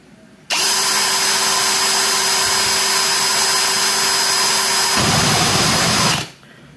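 DCA ADJZ03-13 electric drill running at full speed, a loud steady high-pitched motor whine starting abruptly, holding for several seconds with a slight shift in tone near the end, then winding down.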